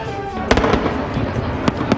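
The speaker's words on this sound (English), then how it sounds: "Oh, fireworks! Look at the fireworks!" Fireworks explode outdoors at night, with several sharp bangs and crackling bursts over a rumbling background. The blasts are fairly loud and come in irregular bursts across the scene.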